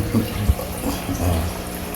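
A home aquarium pump pushing out water, a close, low bubbling and gurgling churn with a brief louder splash near the start, running continuously.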